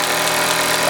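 A Meccano MEC1 toy steam engine runs close by with a steady, even mechanical whirr and hum and a faint regular ticking, unbroken for the whole short stretch.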